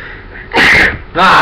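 A loud, close sneeze with a sharp burst, followed quickly by a second noisy blast.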